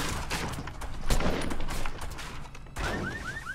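Gunfire in the Fortnite video game: rapid bursts of shots, densest near the middle, with a few sharp chirping game effects near the end and no clear speech.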